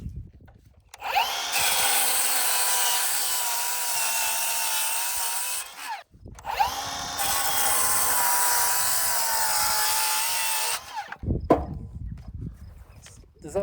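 A power saw cuts through 1 3/4 inch thick LVL blocking for floor framing with I-joists, two loud sustained cuts of several seconds each separated by a brief pause, followed by faint handling noises.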